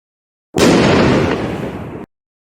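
A single sound-effect explosion for a volcanic bomb being launched: a sudden loud, rumbling burst that holds for about a second and a half, then cuts off cleanly.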